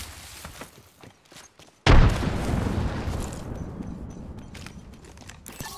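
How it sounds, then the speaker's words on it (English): A grenade explodes in Apex Legends with a sudden loud boom, followed by a long rumbling roll of debris and noise that slowly fades, after quieter scattered game sounds. "Grenade out!"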